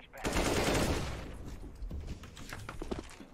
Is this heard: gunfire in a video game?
yes